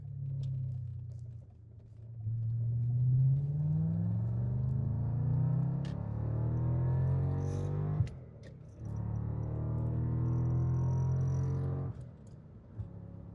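A lowered 2006 Audi S4 Avant pulls hard in fourth gear around 70 mph near a racetrack in Mexico, its engine note rising steadily from inside the cabin with a brief dip near the middle, loud and continuous with no talk.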